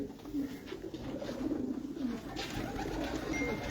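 Soft, low pigeon coos repeat in a gentle rolling rhythm, faint and close, over a quiet hiss of background noise.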